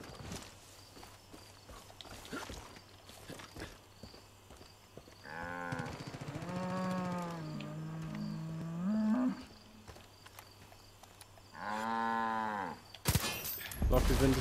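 In the video game Far Cry 5, bulls in a field give several long, loud moos, alongside occasional hoof clops and footsteps.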